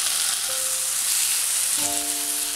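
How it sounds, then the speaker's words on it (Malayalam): Ground tomato sizzling in hot ghee as a mutton dish cooks, a loud steady frying hiss with brief tonal squeaks from the pan, no talking. "ഇനി തക്കാളി ഒന്ന് നന്നായിട്ട് ഈ നെയ്യിൻ്റെ അകത്ത് കിടന്നിട്ട് ഒന്ന് വഴന്നു വരണം കേട്ടോ."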